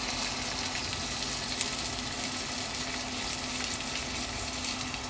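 Steady, close sizzling as garlic, lata and cumin paste fry in a hot pan, with faint stirring scrapes and no talk.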